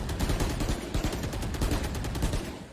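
Rapid bursts of video game gunfire, dense and loud, with repeated sharp shots forming an automatic-weapon stutter that continues throughout without a break.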